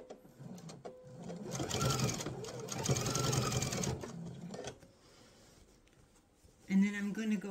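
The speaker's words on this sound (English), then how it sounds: "I'm going to turn this so I can sew a diagonal line down this way." A sewing machine stitches a diagonal line across a mesh tote, a loud, fast, steady whirring run of about three seconds that stops abruptly. A voice speaks briefly near the end.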